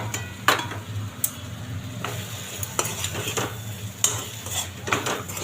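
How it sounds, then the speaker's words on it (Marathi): Yellow potato bhaji with boiled potato pieces is stirred in a pan, a soft continuous sizzle broken by repeated clinks and scrapes of a spoon against the metal at an irregular pace, close and without talking. "छान ढवळून घेते."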